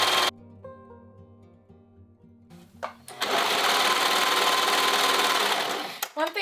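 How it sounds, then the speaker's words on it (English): Serger overlock sewing machine finishing a seam on a blazer, starting after a pause and running as a loud, fast, continuous whir for about three seconds before stopping, close to the listener. "the rest of it I'm going to do with my serger, just because I like to have that finished edge right there"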